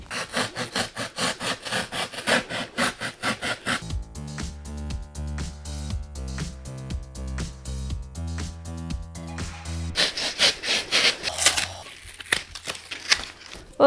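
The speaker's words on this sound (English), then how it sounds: "my idea is to take this little file and just trim the whole thing up so that we just have a really thin layer." A small hand file scrapes dried spray foam sealant off a thrifted mirror frame in close, steady rasping strokes, shifting to a denser grinding texture midway and faster scraping toward the end.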